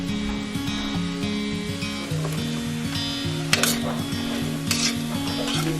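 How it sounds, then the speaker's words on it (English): Diced poblano chiles sizzle steadily in a hot pan with leftover onions, with scraping stir strokes and a few sharp clinks of a utensil against the pan, close and continuous. "Then you're gonna add the chile poblano that we diced up."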